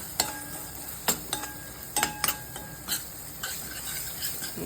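Coconut paste dropped onto spices in a hot pan, a steady sizzle and frying hiss broken by several sharp metal spoon scrapes and clanks against the pan as it is stirred.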